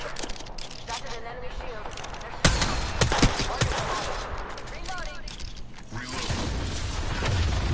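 Bursts of rapid gunfire and sharp single shots ring out in a PS4 shooter game, mixed with mechanical clanks and other game effects, while a player talks over the action.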